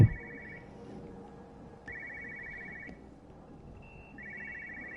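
A telephone rings in the video game Everybody's Gone To The Rapture, an electronic trilling ring that repeats in three bursts at a steady interval over a low ambient hum.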